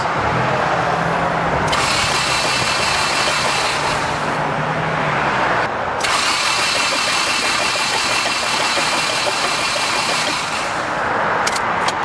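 A flooded Honda Civic engine cranks and catches, then settles into a loud, rough, close idle with a steady rumble and a brief dip partway through.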